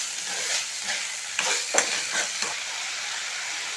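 Chicken is stirred and fried with sautéed tomatoes, an even sizzle broken by several scraping stirs of a spoon against the pan, close and fairly soft.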